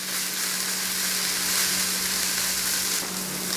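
Ground beef farofa with oat bran being stirred in a hot pan, a steady, close sizzle of frying that holds evenly throughout with no talking.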